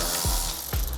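A ratchet wrench backs off small 10mm bolts on roller shutter brackets of a BYD Shark 6 ute, giving a steady close clicking with two quick pulls of the handle.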